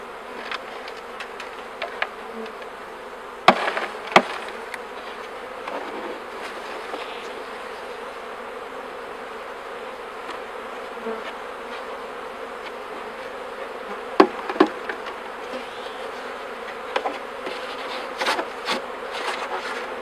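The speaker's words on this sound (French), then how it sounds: "On va secouer ce qui reste d'abeilles." Honey bees buzz steadily in a dense, close swarm as the last of them are shaken from a small nucleus hive during a spring transfer to a full hive, with a few sharp knocks standing out above the drone.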